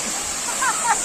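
Steady rushing roar of a waterfall in a rocky forest gorge, close and continuous, with a couple of brief voices rising over the water noise.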